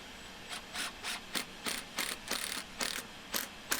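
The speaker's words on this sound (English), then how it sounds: "So tack a couple screws in there" Screws are hand-driven into wood window anchors embedded in a cob wall, producing a quiet, close series of rhythmic grinding, rasping turns with no talking.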